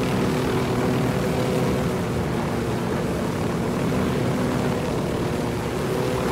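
Steady, continuous rotor and engine drone of a helicopter in the video game Ghost Recon, loud and unbroken throughout with no talking.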